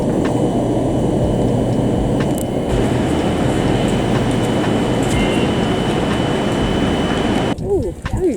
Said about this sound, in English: Okay, time to get the tram.